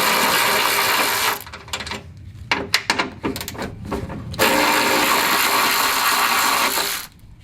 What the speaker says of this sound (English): I'm going to use an electric ratchet for video purposes